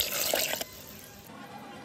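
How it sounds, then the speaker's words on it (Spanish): Water is poured from a cup into a blender holding chiles for Mexican red chilaquiles, a soft steady splashing and trickling close by lasting about two seconds. "Voy a poner una taza y media de agua."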